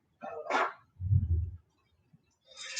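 A dog barks indoors in short separate bursts, a sharp higher yap followed by a deeper, fuller bark, then another yelp after a brief silence, fairly near.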